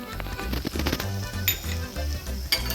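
Spiced rice ingredients for Kutchi khari bhaat sautéing in a pan on low heat, a soft sizzle with occasional clinks of a spoon against the pot, close and brief.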